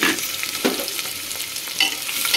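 Chopped onions frying in a pan for an Odia-style mutton curry, a steady close sizzle with occasional scraping stirs and crackles, no talking.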